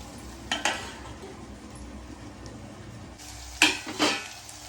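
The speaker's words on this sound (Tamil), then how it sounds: "சுரக்காயை சேர்த்துட்டு நல்லா கலந்து விட்டுருவோம்" Bottle gourd being stirred into a curry simmering in oil, with a low steady sizzle and two pairs of sharp scraping clinks from a spoon against the pot, close by and without speech.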